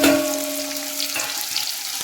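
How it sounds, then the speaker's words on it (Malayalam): Onion and dried red chillies hit hot oil in a heavy pan, a loud sizzle that starts strong, then settles into a steady frying hiss with a few light stirring knocks. "അതിലേക്ക് ഈ ഒരു സവാളയും അരിമുളകും ഒപ്പം ചേർത്ത് കൊടുക്കാം"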